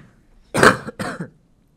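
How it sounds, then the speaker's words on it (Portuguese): Two close, loud coughs in quick succession, the first stronger and the second shorter, followed by quiet. "Essa minha tosse tá bonita. Uma tosse de mãe."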